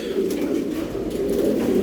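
Racing pigeons coo steadily in a loft in Mirpur, Dhaka, a continuous soft, throaty murmur of several birds layered close together without pause.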